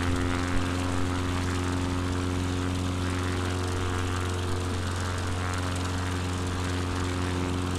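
An XCub light aircraft's engine runs at full takeoff power, a loud, steady propeller drone with strong tonal hum, continuous and close for the whole stretch, no voices over it.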